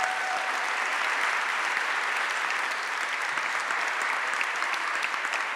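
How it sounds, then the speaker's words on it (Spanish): An audience claps after a talk session, a sustained, even wash of applause from a crowd that holds at a steady level from start to finish. "Un aplauso."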